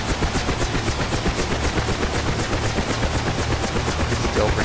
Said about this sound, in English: as I do so, engine RPM starts to pick up